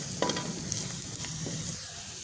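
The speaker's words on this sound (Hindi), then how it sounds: "इसको हम तकरीबन 1 मिनट के लिए मसालों को अच्छी तरह से भून लेंगे" Spices with carom seeds (ajwain) roast in a pan for samosa filling, giving a soft, low, continuous sizzle with a few faint stirring clicks and no voices.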